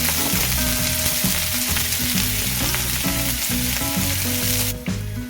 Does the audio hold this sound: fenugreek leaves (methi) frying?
yes